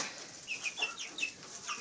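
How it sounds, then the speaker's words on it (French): A rooster, a black Alsace crossed with a golden Alsace, gives short clucking calls in quick succession. The calls sound close and fairly soft, with no talking. "j'ai un magnifique coq ici, mais qui est malheureusement croisé avec un doré"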